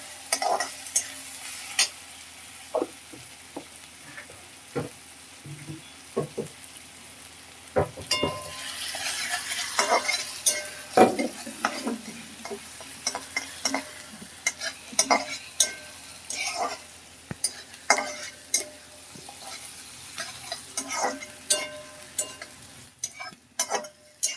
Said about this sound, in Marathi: त्याला व्यवस्थित परतून घेऊया आपण